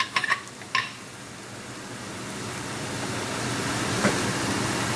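A pressure cooker full of palak (spinach) opens with a few sharp metallic clicks, then a steady, close hiss of venting steam that grows slightly louder and carries on to the end, with no talking.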